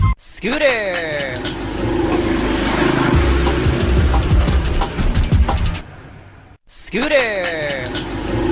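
A voice imitates a scooter with one loud, sustained buzzing engine drone of about five seconds. It cuts to a brief silence, then a second burst begins.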